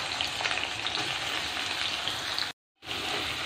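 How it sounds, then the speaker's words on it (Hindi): Onions fry in hot oil in a well-heated kadhai with a dense, even, close-up sizzle, broken by a moment of silence before the crackle resumes. "प्याज डालेंगे अभी"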